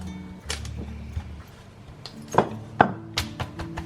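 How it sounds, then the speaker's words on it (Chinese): Wooden rolling pin working pressed bread dough for low-fat pretzel sticks into a flat tongue shape, heard as a few scattered close thumps and sharp knocks against the board over a quiet background, no talk. "稍微按一按，然后用擀面杖给它先擀成一个牛舌状"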